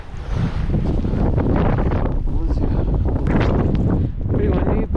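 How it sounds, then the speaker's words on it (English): Strong wind roars across a mountain peak in a snowstorm, loud gusty buffeting hitting the microphone continuously, with a person speaking over it. "pretty windy, but not bad."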